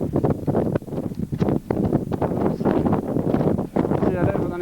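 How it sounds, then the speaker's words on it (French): Strong wind batters the microphone on the Rochefort ridge in the Alps, a loud continuous rushing roar with gusts, with no voices. "Le vent me fracasse."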